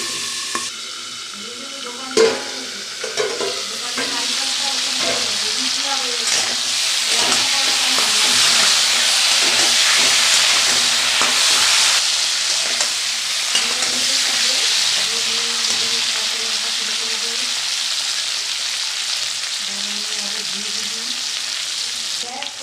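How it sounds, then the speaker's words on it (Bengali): Cauliflower frying in oil in a pan, a loud, continuous sizzle that swells and fades with a few clinks and stirring scrapes, while faint speech murmurs in the background. "ফুলকপিটা আমার ভাজা হয়ে গেছে, এবার নামিয়ে নিচ্ছি।"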